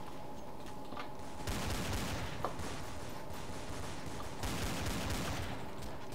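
Gunfire from the video game Counter-Strike: Source, with rapid bursts of shots and an intense, dense volley of fire from about halfway through, at a moderate level.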